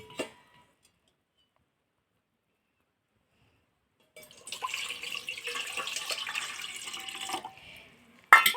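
Water poured into a bowl in a home kitchen while preparing dough for wheat and rice flour papad; after several seconds of near silence comes a steady splashing pour lasting about three seconds, ending with a brief louder clatter.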